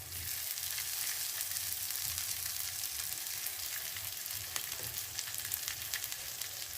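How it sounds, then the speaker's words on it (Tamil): Chopped capsicum frying in hot oil for a spicy prawn biryani, a soft continuous sizzle with faint stirring scrapes, close but quiet, no voices. "குடமிளகாவை ஒரு நிமிஷம் அளவுக்கு ஃப்ரை பண்ணி எடுத்துடலாம்."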